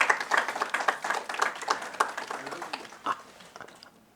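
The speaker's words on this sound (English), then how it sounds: "Give her a big round of applause also." Audience clapping at a women's empowerment event, individual claps clearly distinguishable at first and then thinning out and fading toward the end.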